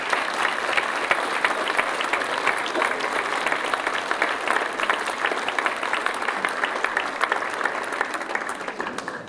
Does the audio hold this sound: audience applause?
yes